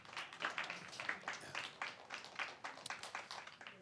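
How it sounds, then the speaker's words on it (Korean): A church congregation claps together in a loose round of applause, the sharp hand claps steady and moderately loud for a few seconds with no voices over them. "잘했어. 박수하겠습니다."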